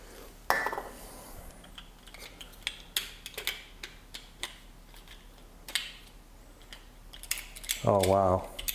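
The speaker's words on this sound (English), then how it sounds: "I'm putting this knob back together" A door knob's latch mechanism, freshly lubricated with WD-40, being turned and worked: scattered light clicks and rattles, then a brief louder burst of metallic ratcheting near the end.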